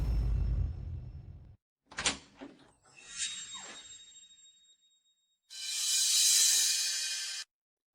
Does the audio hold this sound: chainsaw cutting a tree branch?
no